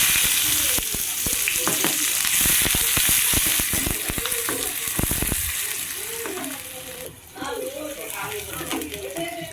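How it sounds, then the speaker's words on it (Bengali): Chopped onions frying in hot oil with black cumin for a banana-flower mash give a loud, close, continuous sizzle with stirring clatter, which eases partway through as a voice begins talking over the quieter frying. "এবার পেঁয়াজটাকে লাল লাল করে বেজে নিতে হবে"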